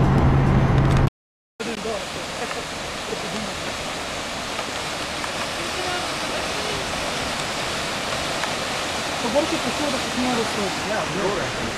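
Constant rushing roar of the Slivodolsko padalo waterfall, steady and fairly close, following a short silent gap near the start; no clear talk over the water.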